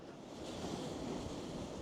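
Sea at high tide on Blackpool beach, a steady, broad wash of surf under gusting wind, fairly distant and soft with no voices.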